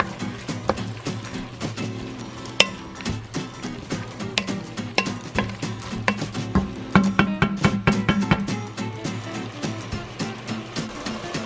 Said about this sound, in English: And then I'm also gonna add my cut up or diced ham. This is honey ham. Okay, and then mix everything well.